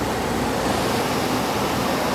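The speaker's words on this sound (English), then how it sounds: "I just heard it speed its fan up because I had the one-touch setting selected." A 2001 Kenmore (WCI) 8,000 BTU room air conditioner with its fan running steadily, producing a constant broadband whoosh of moving air at close range, even and unbroken throughout.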